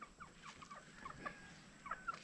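A Texas-type breed chicken gives quiet, scattered clucks and short throaty calls a little way off, soft and intermittent against a hushed background with no talk.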